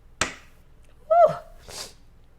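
One sharp sneeze bursts out, followed by a brief voiced exclamation and a softer breathy sound, close to the listener.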